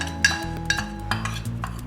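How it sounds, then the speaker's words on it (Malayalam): Chicken being mixed with maida and cornflour in a bowl, soft rhythmic clicks and scrapes of a spoon repeating about four times, close and alone. "ഇത് നന്നായിട്ടൊന്ന് മിക്സ് ചെയ്തെടുക്കുക."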